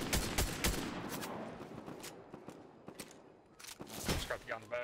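Gunfire in the Fortnite video game: rapid bursts of shots, some clustered and some isolated, punctuated by sharp cracks and running under intermittent talk.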